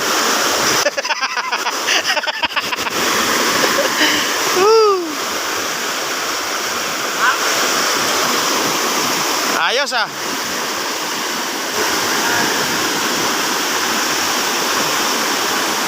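Steady, loud rush of fast-moving flood water from a dirty river fills the whole clip, with a few brief voices calling out over the roar.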